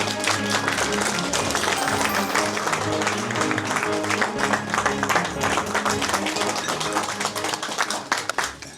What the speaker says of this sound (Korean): 그러 오세훈 서울시장님을 큰 박수로 환영해 니다